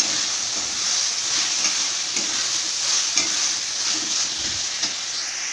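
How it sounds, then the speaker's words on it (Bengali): Chopped tomatoes hit a pan of frying spice masala for a chicken giblet curry, giving a steady, close hissing sizzle with faint stirring scrapes throughout, no voices. "সেই টমেটোগুলো দিয়ে দিলাম।"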